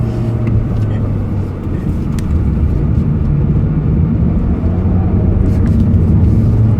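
Jaguar XE sedan driven briskly and spiritedly, a steady engine drone and road roar heard from inside the cabin, holding at a constant loud level with no talking.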